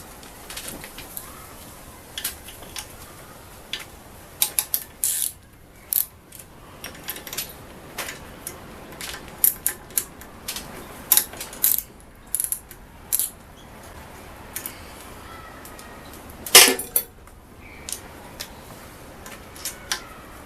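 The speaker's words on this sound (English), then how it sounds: "this is where having a deep well socket really comes in handy" A ratchet with a deep well socket clicks in short bursts of rapid pawl ticks while loosening a mower engine carburetor, close and crisp over a quiet outdoor background.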